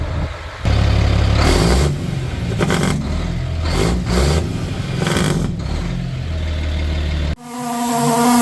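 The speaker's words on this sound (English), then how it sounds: "running the oil pump right now" An electric oil pump primes a car engine, pushing oil up to the rocker arms in a shop before a drag racing event; a steady, loud buzzing drone runs for about seven seconds, then cuts off abruptly.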